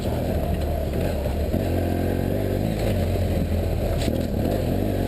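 BMW F800GS and HP2 motorcycles riding an off-road trail, a steady loud engine drone with rumble and some clatter over rough ground, continuous throughout without talk.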